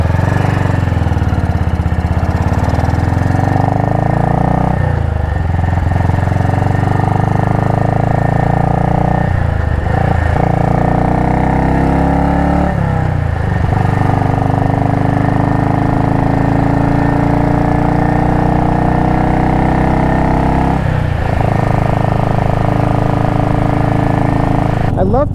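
A BSA Goldstar single-cylinder motorcycle, freshly back from major engine repair, runs loud and close with a throbbing exhaust note that rises through several revs and gear changes, dipping briefly between shifts over a sustained roar.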